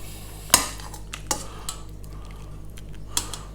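Metal spoon scraping and tapping against a dish while draining cooked broccoli and cauliflower, with a sharp clink at the start, softer knocks after it and another light clink near the end, all close by.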